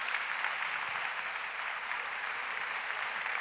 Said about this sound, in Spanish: Un aplauso a esos compañeros que están...